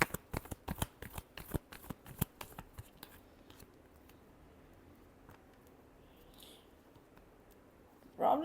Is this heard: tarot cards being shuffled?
yes